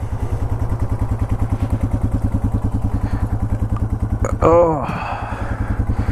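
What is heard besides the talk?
Yamaha TW200 motorcycle engine idling while warming up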